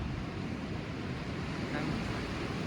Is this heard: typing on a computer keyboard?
no